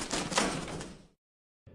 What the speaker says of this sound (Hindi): पिंजरे का दरवाजा बंद हो जाता है